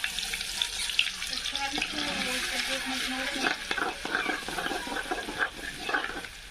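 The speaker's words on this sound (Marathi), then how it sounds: "तर आपलं तेल तापलं आहे तर याच्यात मी लसण टाकते आता" Garlic dropped into hot oil in a pan over a wood-fired stove for a spicy prawn curry, giving a loud, steady sizzling hiss with scraping stirs running through it.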